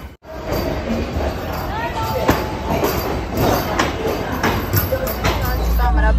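Vande Bharat train running, with steady rolling rumble and rhythmic wheel clicks along the track inside the carriage, under people talking nearby.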